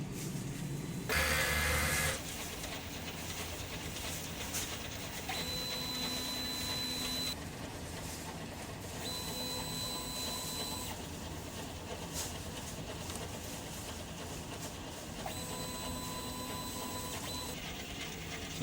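A DTF printer runs a print head cleaning cycle: a steady mechanical whir and pump hum continues throughout, with shifting motor tones and brief tonal whines, close and even, with no talk.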